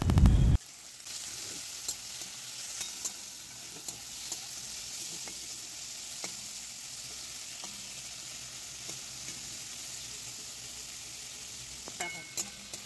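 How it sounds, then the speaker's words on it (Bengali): Prawns, cut, washed and rubbed with salt and turmeric, fry in hot oil for a prawn and pointed gourd dish, giving a steady close sizzle with faint stirring clicks after a brief louder burst at the start. "চিংড়ি মাছগুলোকে ভালো করে কেটে ধুয়ে নিয়ে নুন হলুদ মাখিয়ে তেলের মধ্যে দিয়ে ভেজে নেওয়া হচ্ছে"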